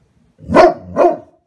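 A Great Pyrenees gives two deep, loud barks close by, about half a second apart, then falls silent.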